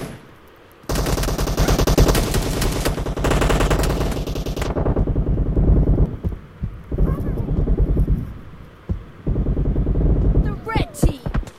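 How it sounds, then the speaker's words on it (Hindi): Dense bursts of automatic gunfire in an online multiplayer shooter, loud and sustained for several seconds, then breaking into shorter volleys and scattered shots, with a player talking over the shooting. "किससे किससे बचूं भाई इतनी गोलियां पड़ रही हैं आजू बाजू दाएं बाएं"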